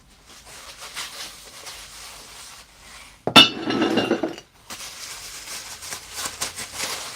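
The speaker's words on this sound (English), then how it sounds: "there is a lot of clear glass in here" Clear glass pieces clink and knock together while a storage tote is unpacked, with a sharp ringing strike followed by a dense burst of rattling glass, then softer handling and shuffling close by.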